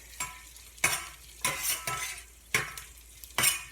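Crispy pulled pork frying in a pan is stirred in six quick, scraping strokes over a light sizzle, each stroke a short rough burst close to the listener.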